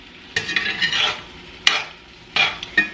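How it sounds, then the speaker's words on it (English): Garlic steak bites sizzle in a hot pan while being stirred and scraped, with three close bursts of frying hiss and utensil scrapes separated by brief quieter gaps. "once your pan heats up, it's going to cook and caramelize to the best of its ability"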